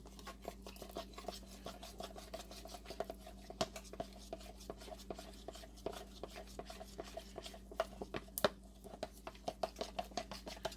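Shepherd's pie meat filling being stirred in a pot, a faint, close series of repeated scraping and tapping strokes from a utensil against the pan at an irregular, steady pace.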